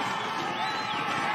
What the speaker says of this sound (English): Massive crowd cheering these riders on.